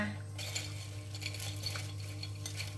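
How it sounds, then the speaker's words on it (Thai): Fish sizzles steadily in a pan of hot oil, fried without being rinsed first, with a few soft utensil clinks over the continuous close frying hiss and no talking. "วิก็จะทอดปลา"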